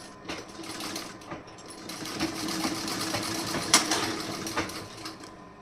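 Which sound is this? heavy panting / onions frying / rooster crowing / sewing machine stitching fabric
sewing machine stitching fabric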